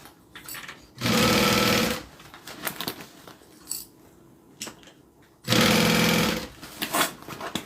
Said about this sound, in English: now we're going to sew the interior and exterior together